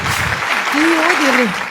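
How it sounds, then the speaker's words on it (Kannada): Audience applause rings out on a Kannada dance reality show, a steady wash of clapping with a voice speaking briefly over it. "ಜೋರಾದ ಚಪ್ಪಾಳೆ ಬರಬೇಕು ರಂಜಿತಾ ಹಾಗೂ ಅವರ ಇಡೀ ಕುಟುಂಬಕ್ಕೆ."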